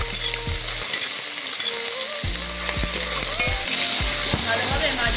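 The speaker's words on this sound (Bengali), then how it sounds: "ভালোভাবে মাছগুলিকে ভেজে নেব" Pieces of rui fish frying in hot oil in a pan, a steady dense sizzle with intermittent clinks and scrapes of turning the pieces, close and continuous with no talking.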